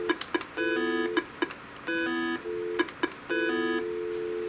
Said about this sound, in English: And then we just get another dial tone.